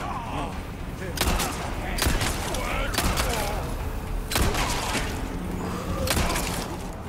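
Sharp gunshots crack out in Resident Evil 4 Remake's Separate Ways DLC at roughly one-second intervals, six or seven loud blasts over a busy, noisy background.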